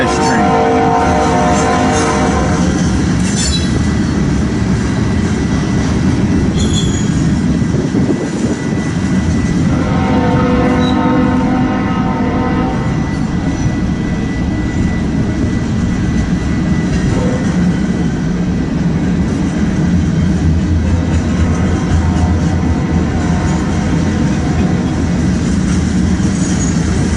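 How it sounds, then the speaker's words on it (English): A long manifest freight train heading west rolls steadily past, mixing gondolas and fallen-flag cars with Missouri Pacific and Southern Pacific markings, its rumble and wheel clatter loud and continuous, with occasional faint squeals. "It is a manifest train."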